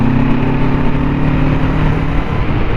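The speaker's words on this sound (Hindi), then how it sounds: "बाइक की साउंड बड़ी मस्त आ रही है अभी" Steady Kawasaki Ninja 650 motorcycle engine drone with an upgraded air filter, low, even hum held at a constant level throughout; no voices.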